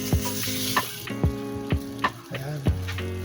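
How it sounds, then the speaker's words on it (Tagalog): Chicken sinigang with seasoning sizzles in a pan while a spoon stirs it, giving repeated scraping knocks about every half second over a continuous frying hiss. "Paluhaluin natin para mahalo-halo na"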